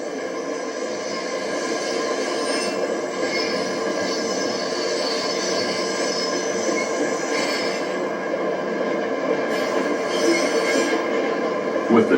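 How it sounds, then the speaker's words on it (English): A train eases backward through Santa Fe's Argentine rail yard, a steady mid-distance rumble of rolling cars with faint metallic wheel squeal throughout, while a narrator speaks over it. "With the train backing towards the Y, a Union Pacific business car crosses over on the elevated track."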